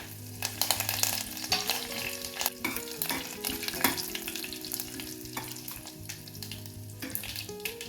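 Mustard seeds, cumin, two Byadgi chillies and curry leaves tempering in hot oil, a busy crackling sizzle with spluttering pops and utensil clinks, close up and without voices.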